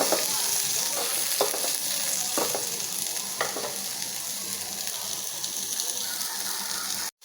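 Nigella seeds (kalijira) roast in a hot pan with a steady, close sizzle and faint crackle that runs without a break, with occasional light scraping taps of stirring. The sound cuts off abruptly at the end.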